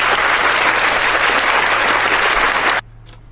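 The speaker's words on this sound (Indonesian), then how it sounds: "Tepuk tangan untuk Rasulullah sallallahu alaihi wasallam." Loud, dense applause from a large crowd of Islamic boarding school students at a religious lecture, sustained evenly for nearly three seconds and then cutting off abruptly into a quiet room.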